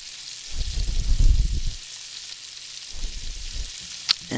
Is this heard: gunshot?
no